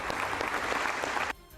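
Members of Australia's parliament stand and applaud, a dense, steady burst of clapping from a large chamber that fills the room and then cuts off abruptly near the end.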